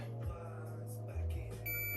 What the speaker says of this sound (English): Continuity with a beep.